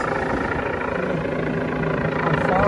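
NYPD helicopter flying overhead above a major five-alarm fire scene, a steady loud rotor and engine roar holding evenly throughout with no break.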